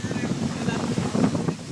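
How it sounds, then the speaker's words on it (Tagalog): Strong wind blows hard against the microphone in a continuous low, roaring buffet with uneven gusts, loud and close throughout. "sobrang lakas ng hangin dito"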